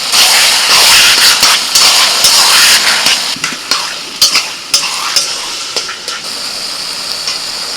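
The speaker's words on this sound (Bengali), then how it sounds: "কচু শাক নাড়াচাড়া করতে করতে জলটা অনেকটাই শুকিয়ে গেছে" Taro leaves with salt and turmeric sizzling in a pan as they are stirred, loud close frying hiss with repeated sharp scraping and clacking strokes of the spatula, easing off toward the end, no talk.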